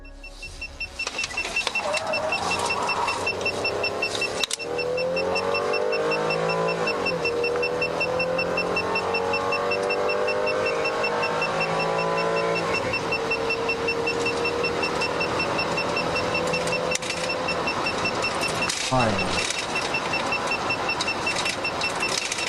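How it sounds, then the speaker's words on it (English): Police chase with speeding cars screaming past a patrol car, a loud continuous engine roar with rising and falling pitch sweeps as vehicles pass, under steady electronic beeping and a few sharp knocks. "They recover and come screaming past another patrol car."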